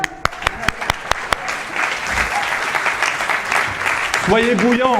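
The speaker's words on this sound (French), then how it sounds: "on peut applaudir Dédé" Audience applause for Dédé at a spiritual motivation gathering, starting with a few sharp claps that swell into a steady, dense wash of clapping, with a voice cutting in near the end.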